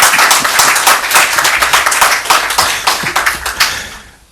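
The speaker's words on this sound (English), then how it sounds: "This is where the applause is deserved." Audience applause at a Ghanaian political address, a loud, dense burst of clapping from a large crowd that holds steady and then tapers off toward the end.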